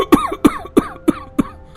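Five sharp, evenly spaced coughs in quick succession from a person bothered by smoke from a kitchen stove, close and fairly loud, with no talking.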